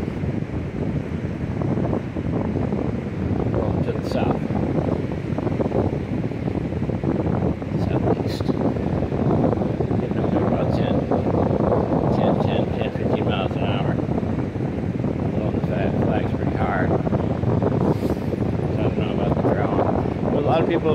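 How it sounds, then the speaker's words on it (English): Steady wind blowing across an open stretch of Rosarito Beach in Mexico, a constant broadband rush with gusty swells and microphone buffeting that runs the whole time, with faint distant sounds at times. "So the wind's starting to pick up a little bit more."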